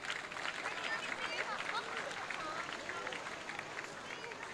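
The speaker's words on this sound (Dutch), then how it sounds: "U mag ze een warm applaus geven." An audience at a military parade applauds mounted riders, steady, moderately distant clapping and crowd noise with faint chatter throughout.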